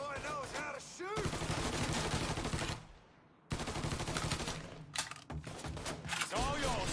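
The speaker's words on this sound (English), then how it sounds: "Boy knows how to shoot." Bursts of rapid automatic gunfire in the Mafia 3 video game, loud and repeated in several volleys with brief pauses between them, while a voice talks over part of the action.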